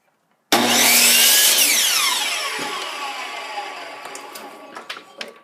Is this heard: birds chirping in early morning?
no